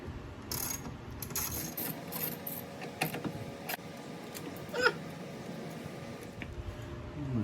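A ratchet working 10 mm bolts during disassembly of a Dodge Caravan door to replace the window regulator and motor, making quiet, close clicking and rasping pawl sounds in short bursts over a muffled background.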